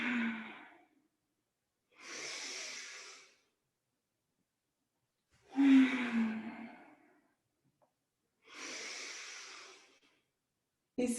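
Deep breaths drawn in and let out during a guided exercise routine, four separate breath sounds each lasting about a second or more with silent pauses between them, close and fairly soft.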